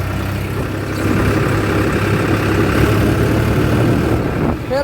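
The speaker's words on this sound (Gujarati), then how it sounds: "ઉત્તમ ટ્રેક્ટર ખાલી કરે હે" A tractor engine runs steadily at close range while unloading manure in a village, a loud continuous low chugging drone with a slight dip at the end.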